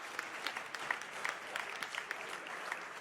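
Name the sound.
audience applause for teacher Keishia Thorpe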